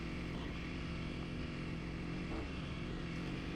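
Two Kawasaki KLX dual sport dirt bikes on an off-road trail, a 2020 KLX 230 and a 2022 KLX 300R, engines droning steadily at a distance with a broad rumbling hum.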